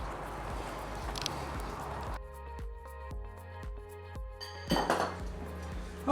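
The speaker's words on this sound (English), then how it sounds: "I'll just snap this lid on." Clattering and clinking of a container and lid being handled and snapped shut over grilled peppers in a kitchen, a few close, sharp knocks and rattles with quieter handling between them.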